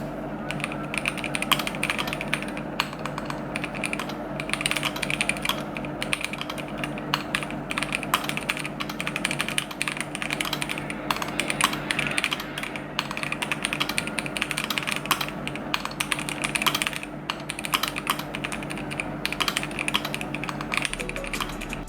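Steady typing on a Voyager68 Lite mechanical keyboard fitted with red switches, dense, fast keystrokes with soft, padded clacks that run continuously and close up, with no voice over them.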